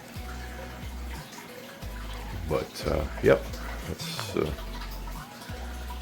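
Water runs steadily into a tank being refilled, a continuous gushing wash with a few splashy surges, while a person speaks briefly over it.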